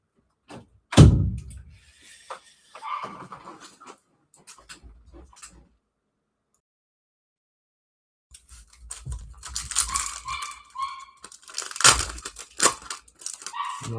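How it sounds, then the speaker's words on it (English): Dogs barking at home, with a sharp loud bark near the start followed by scattered rustling and knocks, then another burst of barking and clatter toward the end. "I'll sort these dogs out."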